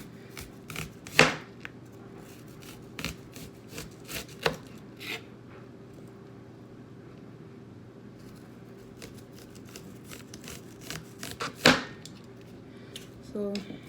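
Onions chopped with a knife on a cutting board for a Jamaican dish, with a few loud close chops and many lighter irregular knife taps spread over a quiet kitchen background.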